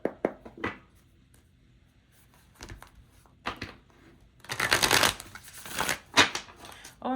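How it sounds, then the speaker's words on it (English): Tarot cards being shuffled by hand during a reading, with soft riffles and taps early on, then a longer, louder burst of card-on-card shuffling and a few sharp flicks near the end, close to the microphone. "let's go ahead and pull some tarot cards and see what additional information and guidance we can get from"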